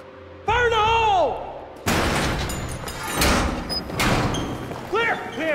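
An explosive breaching blast opening a gate in the Battlefield 3 video game, heard as a sudden heavy boom that gives way to rumbling debris and rolling noise, with soldiers' voices shouting before and after it.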